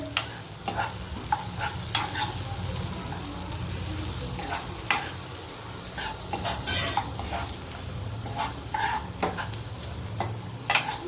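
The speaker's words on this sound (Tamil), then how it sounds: "திரும்ப வதக்கு." Onions sautéing in oil in a pan, with a steady sizzle and repeated scraping and clinking of a spoon stirring against the metal, close and continuous.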